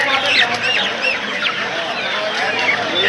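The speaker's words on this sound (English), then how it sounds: "Nothing but chicken, nothing but chickens." Crowds of chickens cluck and squawk densely at an open-air wholesale chicken market in Calcutta, a continuous close chorus of overlapping bird calls.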